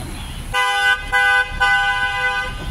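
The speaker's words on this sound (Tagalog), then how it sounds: "Ang busina." Three short car horn honks in a row, loud and close, over a steady street background.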